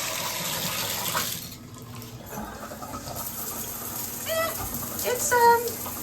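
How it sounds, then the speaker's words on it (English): A hotel shower head runs with a steady hiss of spraying water that briefly dips and then resumes, with a person speaking faintly over it. "I'm going to test the water pressure right now."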